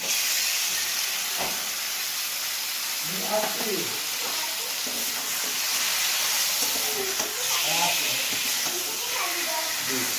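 Lotte fish dropped into hot oil with fried spices, giving a steady broadband sizzle and hiss throughout, with someone talking intermittently over it.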